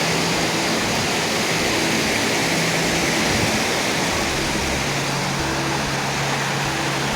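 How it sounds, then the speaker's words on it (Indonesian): A river rushes through forest near Tasikmalaya, a loud, dense and constant broadband roar of flowing water with no pauses and no voices. "Disinilah saya harus menyeberangi sungai."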